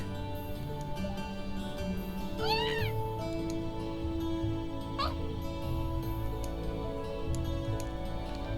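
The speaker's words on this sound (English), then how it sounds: "Meow. Say, oh yeah, I guess that's about as much as a cat can tell me." A cat meows in the video game Trails of Cold Steel, a single rising and falling call over steady game music, followed by a second short meow a few seconds later.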